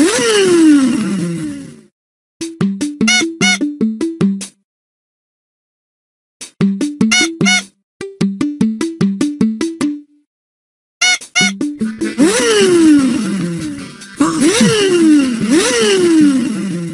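A cartoon stop-go toy car makes bursts of stuttering, revving engine-like tones that stop and start in short rhythmic runs, separated by pauses, then build into longer sweeping vroom sounds that rise and fall toward the end.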